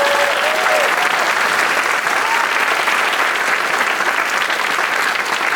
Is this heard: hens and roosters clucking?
no